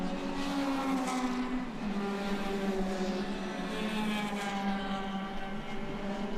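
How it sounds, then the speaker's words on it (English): Two Honda race cars pass on a circuit, their engines a sustained loud, high-revving roar that rises and falls in pitch as they go by, continuous for several seconds with no voices over it. "Great sounds from both of those Hondas as they go by."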